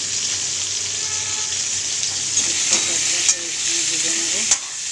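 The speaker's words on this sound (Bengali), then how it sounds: "কড়াতে তেল দিয়ে তেলটা গরম হয়ে গেছিলো, আলু ছেড়ে নিয়েছি, আলুটা ভাজা হচ্ছে হালকা" Potatoes fry lightly in hot oil in a karai, giving a continuous close sizzling hiss broken by a few soft clicks and taps of a utensil, with no talking.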